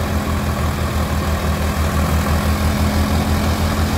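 A Sonalika RX 50 DI tractor engine runs steadily under light load beside a thresher, a loud, close diesel chug with an even low throb and no talking.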